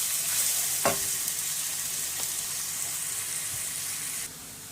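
Onions frying in a pan for masala aloo, a steady close sizzle with a brief clatter near the start and a faint stir later, the hiss dropping slightly at the end.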